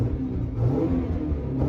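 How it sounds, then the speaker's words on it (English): A 1996 Alfa Romeo GTV Spider with a 2-litre Twin Spark engine revs on a road, a steady, close mid-pitched engine rumble that runs under two seconds with no talking. "It's a peppy little engine,"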